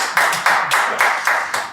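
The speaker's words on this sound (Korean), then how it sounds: "박수 한번 쳐주세요" Audience applause at a lecture on North Korean culture: a steady, rhythmic run of claps in even bursts, fairly loud and close, with no talk over it.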